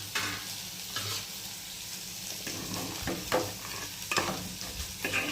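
Cauliflower florets fry in a pan of simmering khichuri, a soft constant sizzle with a utensil stirring and scraping against the pan every second or so, close and moderately quiet, with no one speaking.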